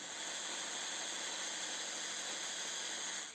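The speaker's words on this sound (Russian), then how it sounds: "Все пробиваем в блендере в однородную массу." An electric blender whirs continuously, purees avocado with cream cheese and a little garlic into a smooth mass, a steady high-pitched motor whine with hiss, close and unbroken, no talk over it.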